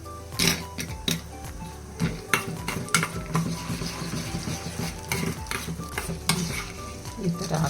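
Urad dal and chana dal fry in hot oil in a small pan, sizzling continuously. A spoon scrapes and knocks against the metal in sharp, irregular clinks throughout.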